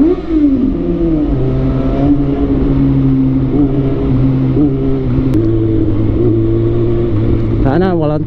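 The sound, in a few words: motorcycle engine while riding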